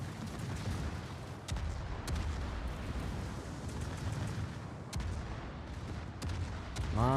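Naval gunfire in a World of Warships team battle: a steady wash of low rumbling with repeated sharp, distant-sounding shot cracks at irregular intervals, building at the end, without speech.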